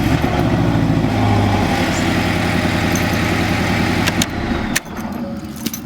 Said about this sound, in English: I can actually grab my real key and actually put it in where the fake key fob was and turn my car on with that